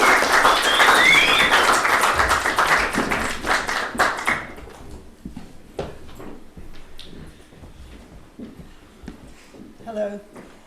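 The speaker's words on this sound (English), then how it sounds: "Give her a round of applause." An audience applauds a mother-in-law, Patricia Iverson, at an anniversary celebration in Ireland. A burst of hand clapping lasts about four seconds and fades into scattered taps, then a voice begins to speak.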